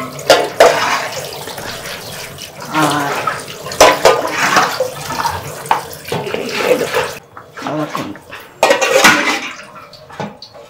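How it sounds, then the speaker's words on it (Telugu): Water running from a household tap in a kitchen, a loud close rush that surges and splashes unevenly, with clattering of vessels and brief gaps where the flow drops away. "ఇగో నీళ్ళు వస్తుంది"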